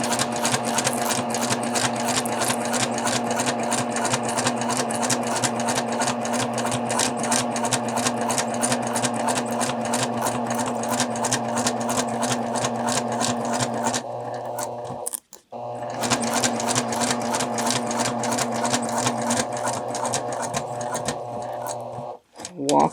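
A sewing machine stitches hook and loop tape for a faux button closure, running in a steady, fast mechanical whir with dense needle clatter, pausing briefly twice before resuming at the same pace.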